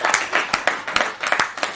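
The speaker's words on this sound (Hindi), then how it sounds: "जोरदार तालियां बजाकर अमित उमर को आमंत्रित करिए" Audience at a Hindi poetry gathering clapping to welcome poet Amit Omar, a brief patch of scattered, uneven hand claps from a small crowd, fairly close and unaccompanied by talk.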